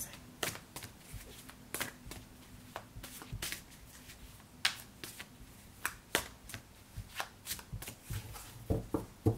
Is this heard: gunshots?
no